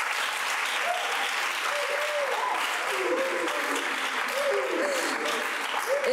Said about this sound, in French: Est-ce que vous pouvez les applaudir?